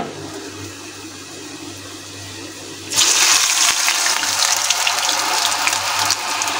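Spiral potatoes dropped into hot oil erupt into a loud, broad frying hiss about halfway through, after a quieter stretch of low hum, and the sizzle stays strong and steady to the end.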